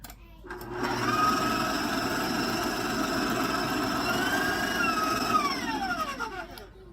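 An electric mixer whirs steadily as it beats pizzelle cookie batter in a bowl, a close, even motor hum that starts up, holds, and shifts pitch as it winds down near the end.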